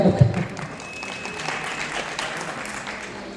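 Scattered audience applause at a tribal Koli community matchmaking gathering, a brief burst of claps at the start that fades into a thin, diffuse patter of hands in a large space.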